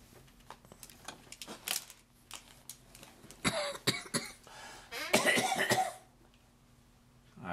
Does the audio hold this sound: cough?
yes